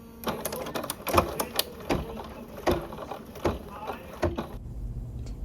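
Home embroidery machine running a satin stitch on a freestanding lace duck keychain with mylar, rapid needle clatter in quick uneven bursts, close and fairly quiet, stopping abruptly near the end.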